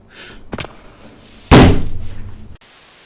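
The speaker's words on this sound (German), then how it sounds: "Haben die Feuerbälle ernsthaft die Tür zerschossen?" In a video game, fireballs strike and blast through a door, giving a short thump followed by a loud heavy slam and a crunching burst of breakage that lasts about a second.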